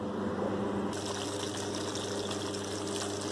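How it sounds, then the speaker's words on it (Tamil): Okra curry gravy bubbling in a pan on the stove, a steady close wash of simmering and boiling liquid that grows a little brighter after the first second and continues without pause. "நல்லா கொதி வரட்டும்."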